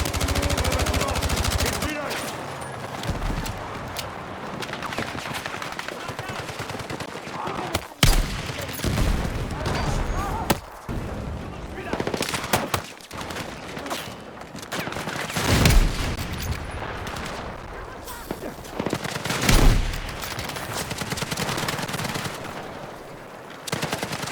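Heavy gunfire in the Battlefield 6 campaign rattles almost without pause, dense automatic bursts and shots layered with booming impacts, loud and close throughout.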